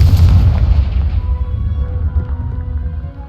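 A Confringo spell explosion in the video game Hogwarts Legacy, a loud deep boom at the start that rumbles and decays with lingering tonal ringing over three seconds, no talking.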